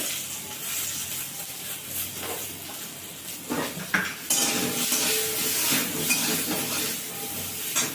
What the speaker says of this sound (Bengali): পটলটাতে একটু লবণ দিয়ে ভেজে নেব, সামান্য একটু হলুদ আর লবণ দিয়ে